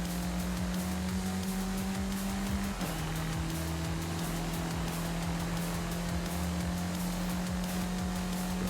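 An off-road Mini car drives through a dirt race in Forza Horizon 5, its engine holding a steady drone with one gear shift partway through, under continuous rumble and gravel noise.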